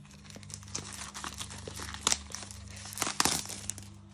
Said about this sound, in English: Let's just take this bad boy out of the wrapper.